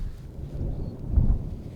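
Low rumbling thunder from a huge storm passing just in front, a broad deep roll that swells in the second half, heard outdoors with no talking.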